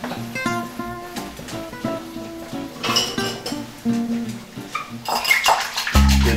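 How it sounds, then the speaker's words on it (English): A whisk beats heavy cream in a bowl for carbonara, giving quick, repeated metallic clinks and scrapes against the bowl, close and fairly loud. "And now we want to whisk this together."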